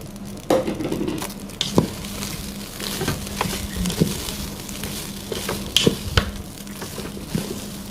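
Chopped carrot, cucumber, tomato and green chili tossed and stirred in a hot pan, with an irregular patter of clinks and soft scrapes over a low sizzle, close and moderately loud.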